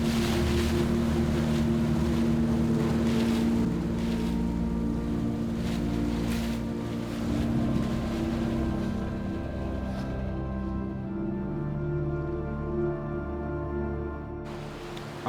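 A motorboat engine drones steadily throughout on the way to Black Island in the Philippines, mixed with rushing water and wind, loud and continuous with the pitch shifting slightly near the end.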